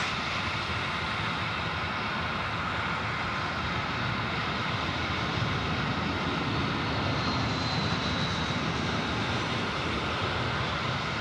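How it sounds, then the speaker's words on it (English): Jetstar jet airliner arriving on runway 16 at Sydney airport, a continuous broad engine roar that holds steady and loud for the whole stretch, with no talk. "And Jetstar 524, next service coming in on runway 16."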